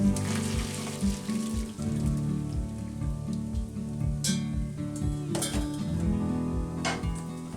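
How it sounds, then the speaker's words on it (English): Water from freshly boiled Brussels sprouts pours and splashes steadily into a kitchen sink for several seconds, a continuous rushing hiss that sits under rhythmic background music. "I'll carefully drain the sprouts into the sink"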